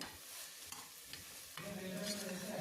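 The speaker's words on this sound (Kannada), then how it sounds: "ಮೊಳಕೆ ಕಾಳು ಹೆಸರು ಕಾಳನ್ನ ಹಾಕಿದ್ಮೇಲೆ 1 ನಿಮಿಷ ತನಕ ಹಾಗೆಯೇ ಎಣ್ಣೆಯಲ್ಲಿ ಫ್ರೈ ಮಾಡ್ಕೊಳ್ಳಿ" Sprouted moong beans frying in hot oil for a gravy, a soft hissing sizzle that rises in strength partway through, with light stirring scrapes near the pan.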